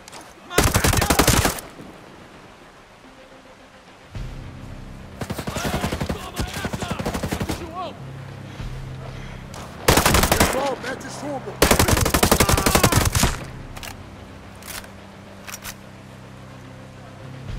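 Ghost Recon Breakpoint gunfire comes in several loud bursts of rapid automatic fire, separated by quieter stretches with faint background and brief voices.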